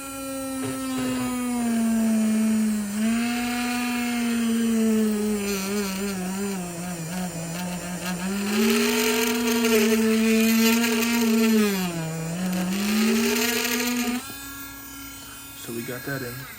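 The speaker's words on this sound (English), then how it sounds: "If you feel your Dremel hot, it's because it's burning a lot of plastic" A Dremel rotary tool cuts into a plastic McFarlane DC action figure, a steady high-pitched motor whine that dips and rises in pitch as the bit loads against the plastic, loud and close for most of the clip.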